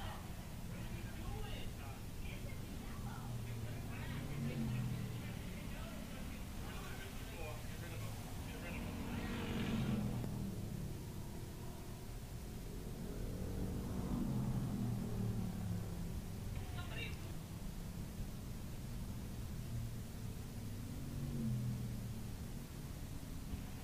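Slingshot race cars roar along the backstretch of Star Speedway, their engine noise swelling and fading in repeated passes under a steady rumble while an announcer talks over the action.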